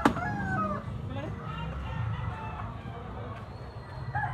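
A rooster crows once near the start, loud and close, followed by a steady farmyard murmur in which low voices can be heard.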